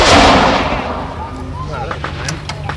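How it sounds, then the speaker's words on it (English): An 18-pounder field gun fires at a military show, a single loud, close blast that booms and then rolls away into a long fading echo, with faint crowd noise beneath. "So we'll see the gun fire again now, and if you like to put 2 rounds through, fire when ready."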